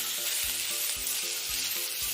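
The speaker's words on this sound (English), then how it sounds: "Say pan and imagine sizzling sounds" Food sizzles steadily in a frying pan, with soft low thumps recurring about twice a second beneath the crackle.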